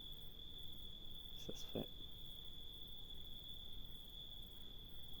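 Crickets chirp at night in a steady, continuous high trill, with a brief, quiet spoken voice partway through.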